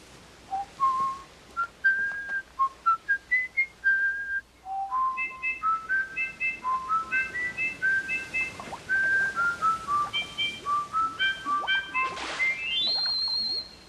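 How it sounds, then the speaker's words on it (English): Melodic whistling of quick rising and falling notes, with a run of short chirps followed by longer warbling phrases and a high sliding finish. "A fish that can whistle."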